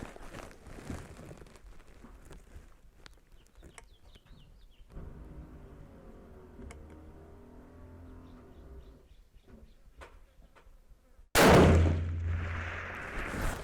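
A single loud rifle shot at the Desert Marksmen Range in Palmdale, California, cracks near the end after a stretch of quiet outdoor ambience and faint background noise.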